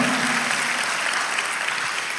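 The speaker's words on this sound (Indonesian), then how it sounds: "Tepuk tangan lebih meriah." A congregation claps at a Christian testimony gathering: dense, steady applause fills the whole stretch at close range with no voices over it.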